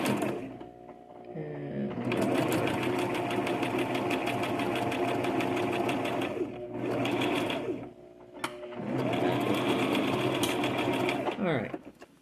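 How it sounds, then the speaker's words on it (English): A sewing machine stitching fabric forward and then in reverse, long runs of fast mechanical whirring broken by short pauses, close and loud, with a brief spoken word in between. "A couple of stitches forward, then backward."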